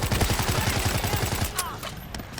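Rapid bursts of automatic gunfire from World War Z Aftermath, a steady pulsing rattle of shots for about a second and a half, then scattered single cracks with faint voices underneath.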